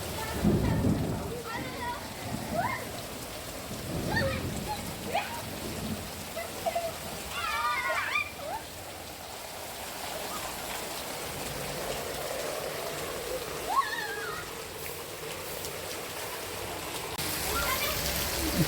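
Steady first rain of the season hisses throughout with a low rumble, while a voice and other people chatter intermittently over the downpour.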